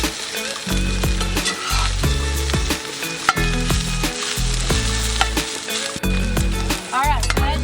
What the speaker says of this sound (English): so we're turning the okra, and when you see it start to brown up like that, you know it's time to turn it all over